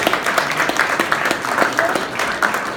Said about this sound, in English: Let's give Bill and his team a big round of applause